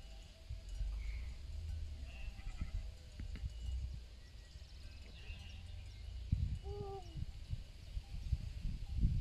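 Sheep bleat a few times across a mountain pasture in Zawoja, brief calls rising over steady wind and rustling handling noise, fairly distant and moderately faint, with occasional bell-like clinks.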